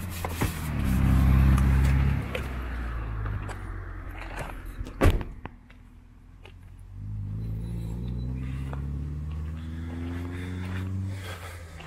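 A car door bangs shut once partway through, a single sharp thud, while the car's low idling rumble continues before and after.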